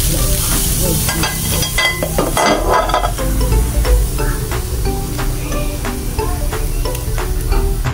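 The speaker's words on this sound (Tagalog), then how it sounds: "So mag-wait lang pa nga mabukal to ang atong gata" Coconut milk (gata) heats toward a boil in a pot, giving a steady dense sizzle and bubbling with occasional stirring clicks, loud and close throughout.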